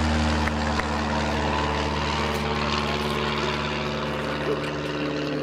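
A British Bulldog propeller training aircraft, now civilian-owned and based at Ursel, Belgium, drones steadily overhead during an airshow, its engine a continuous loud hum with a voice talking over it.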